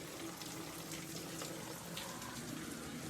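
Steady rain falling over flooded farm fields during a prolonged downpour, a dense continuous watery hiss with no breaks, moderately loud and uniform throughout, with no voices.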